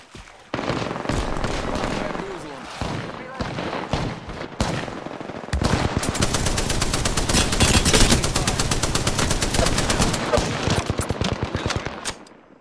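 Rapid bursts of gunfire in the Apex Legends video game, loud and dense, with an automatic weapon firing long rattling volleys through most of the clip and scattered single shots early on.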